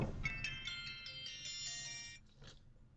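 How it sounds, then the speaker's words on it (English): A mobile phone ringtone plays in a classroom as a bright, repeating electronic melody. The pulses are evenly spaced and fairly close, and the tone stops abruptly after about two seconds. "I'm sorry, my phone's ringing."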